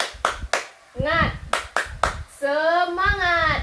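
Fourth-grade primary pupils doing a rhythmic class clap, several sharp clap bursts in a short pattern between bits of a teacher's speech, close and clear.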